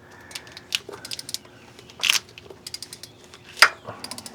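Ratchet clicks on the timing belt tensioner bolt of a first-generation Honda CR-V, heard as a few short, sharp bursts spaced out over quiet shop background.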